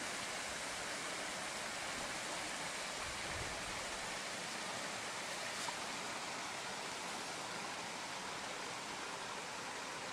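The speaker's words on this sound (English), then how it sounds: "Little waterfall up the top of the hill there." Steady, even rush of a small waterfall high on a hillside among cliffs in remote northern Australian bush, heard from a distance as a constant broadband roar with no voices.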